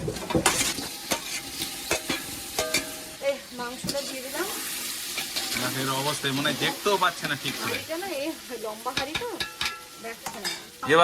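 Meat stirred into a pan already frying onion and carrot, with clanks and scraping of a spoon over a steady sizzle, while someone talks over it throughout.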